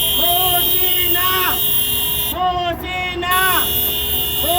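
Car horns in a long motorcade toot in repeated short and stretched blasts, some overlapping, loud and close amid traffic, while a voice talks over them.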